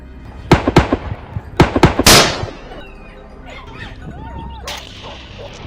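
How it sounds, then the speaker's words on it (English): Rifle shots fired at a wild boar on a farm hillside, several sharp loud cracks in quick pairs followed by a heavier blast, then quieter rustling and faint ambient sound. "But the second shot gave it no chance."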